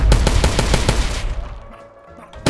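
AR rifle fire in the Roblox game: a rapid, loud burst of shots in even rhythm lasting about a second, then decaying echoes and a quiet tail before one more sharp hit at the end.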